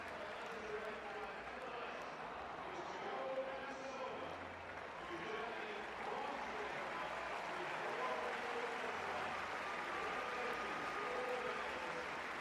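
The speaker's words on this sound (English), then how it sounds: "And the applause in the background." Stadium crowd at the London 2012 Paralympic athletics applauding, a steady broad wash of clapping and crowd noise at moderate level, lasting throughout with murmured voices mixed in.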